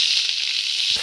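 Chopped vegetables for a bethua greens dish hit hot oil in a pan, producing a bright, continuous hiss-like sizzle with a few soft clatters, close and fairly loud, no talking.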